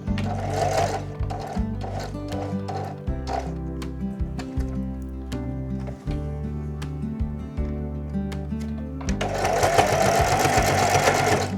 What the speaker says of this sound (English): now I'm going to sew, and I'm just literally going to sew about 1/8 of an inch towards the edge all the way round.